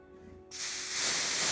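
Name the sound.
compressed air blowing dust off a wheel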